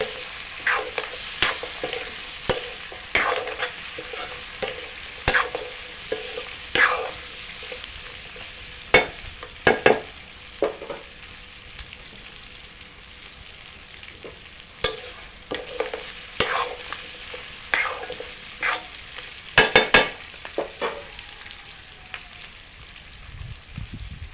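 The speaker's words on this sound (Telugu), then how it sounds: "ఇక తలకాయ బొక్క వేసుకోవాలి ఇంకా కలుపుకోవాలి" Goat head bones are stirred into a frying curry, with a continuous sizzle beneath repeated sharp scrapes and clanks of a spoon against the pan, coming in irregular bursts throughout; no voices.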